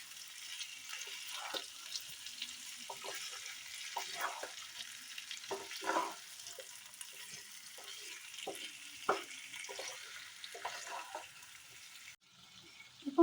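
Baby potatoes with ketchup sizzle in a pan while a spoon stirs them, a steady soft frying hiss broken by light scraping taps, close and quiet, with no voice.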